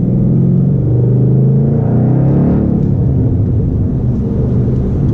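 A 2012 Mustang Boss 302 V8 roars loud and close under hard acceleration, a deep continuous rumbling drone that rises steadily through a pull with no voices over it.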